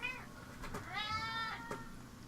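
A cat meows inside the fantasy role-playing game Pillars of Eternity: a single drawn-out, rising-and-falling mew with a shorter chirp before it, close and clear over quiet game ambience.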